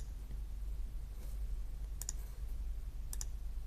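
Two brief pairs of computer mouse clicks, one near the two-second mark and another a second later, sharp and close over a low steady hum, as someone right-clicks to finish drawing a filled triangle shape.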